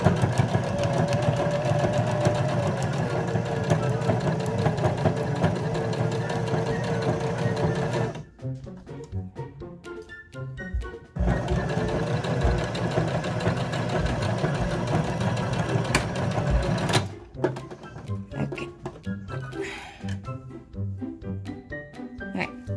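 A sewing machine stitches a fabric face mask with a nose wire, running in loud steady whirring bursts, with two short pauses that leave softer clicks and handling noise between runs.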